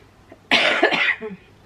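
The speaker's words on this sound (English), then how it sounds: "Still coughing." One sharp, close cough burst followed by a short throat-clearing rasp, loud and alone against a quiet room.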